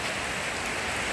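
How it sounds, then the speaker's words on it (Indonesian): Heavy rain falls after afternoon prayers, a dense, even hiss of drops on surfaces that holds steady and close throughout, with no voices over it. "Nah ini kebetulan jadi hujan deras guys nih."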